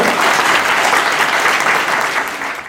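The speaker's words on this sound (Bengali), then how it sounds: "আমার এই 5 জন স্কলারশিপ স্টুডেন্টদের জন্য একবার জোরে হাততালি চাইব" A crowd at a scholarship day event in the Sundarbans gives the students a loud, dense round of clapping that holds steady, then begins to taper at the end.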